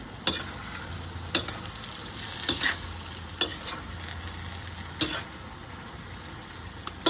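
Vegetables seasoned with fish sauce sizzle steadily in a pan while a utensil stirs and scrapes them in several sharp strokes, fairly close and moderately quiet, with no talking.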